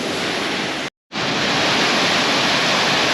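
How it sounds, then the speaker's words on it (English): Bald River Falls in the Smokies pours steadily, a loud continuous rushing roar of falling water, briefly cut off near the start before resuming unchanged. "this waterfall is called the Bald River Fall"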